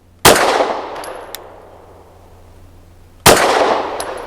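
Two sharp pistol shots from a SAR 9C Gen 3 firing Federal 70 grain lead-free frangible ammunition, spaced about three seconds apart, each loud and close with a ringing decay, faint metallic pings after the first.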